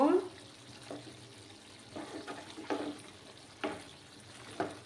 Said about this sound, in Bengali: দিয়ে ভালোভাবে নাড়াচাড়া করব